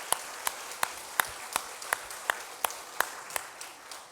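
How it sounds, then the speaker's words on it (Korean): A church congregation at a Sunday morning worship service claps together in a steady, even rhythm, with about eleven sharp claps at close range and a soft room wash between them. "우리 다음 세대 자녀들을 위해서 격려의 박수 한번 하겠습니다"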